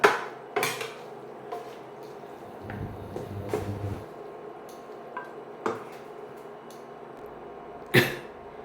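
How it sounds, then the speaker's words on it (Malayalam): Tom yum pasta is mixed in a pan, with sporadic utensil clinks and scrapes against the metal and a brief rumbling shuffle, close by, without talk. "നന്നായിട്ട് മിക്സ് ചെയ്തെടുക്കുക."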